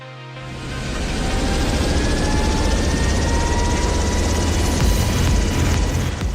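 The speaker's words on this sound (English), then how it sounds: "this marked the first time a Black Hawk helicopter flew without anyone on" An unmanned Black Hawk helicopter flying over a US Army base in Kentucky, a loud, continuous rotor and engine roar that swells in quickly and holds steady and close throughout.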